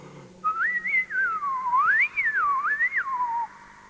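A voice imitates strange, eerie whistling, one long warbling whistle that glides up and down in pitch for about three seconds, close and clear over faint background noise.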